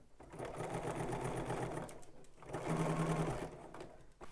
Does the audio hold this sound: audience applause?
no